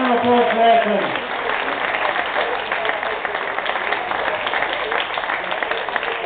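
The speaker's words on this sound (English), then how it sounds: "So there we go, round of applause for Edson." Crowd applause for a Superstock 1000 champion racer at a Silverstone paddock show, a steady sustained clapping wash that continues throughout, with an announcer's voice briefly over it at the start.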